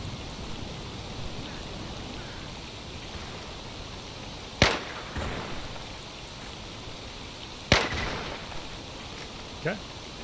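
Two sharp, loud gunshots ring out several seconds apart in the swampy zone of the survival shooter STALKER Anomaly, with a fainter third crack near the end, over a quiet outdoor ambience.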